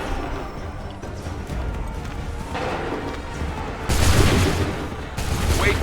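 Musket volleys from massed soldiers in Assassin's Creed III, heard as loud, dense bursts of gunfire over continuous battle noise, with a heavier crash of firing near the end.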